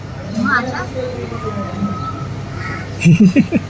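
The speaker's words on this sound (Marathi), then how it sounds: "हा कावळा पण आला इकडं" A crow caws several times outdoors, the harsh calls rising over ongoing casual talk and background chatter, with a louder burst of voices near the end.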